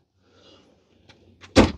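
A drawer in a room at the Fairmont Royal York hotel slides with faint scraping and then shuts with one sharp, close knock.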